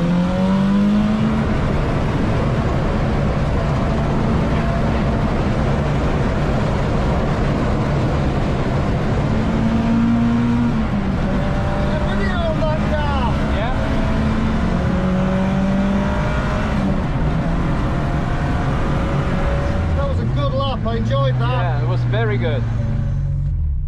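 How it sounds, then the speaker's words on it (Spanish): A heavily modified VW Golf engine roars and revs steadily at high volume, its pitch rising in repeated sweeps, close and continuous for the whole stretch. "Este es el golf más rápido del mundo"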